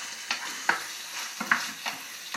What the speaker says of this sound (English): The onions are starting to brown now, which is perfect.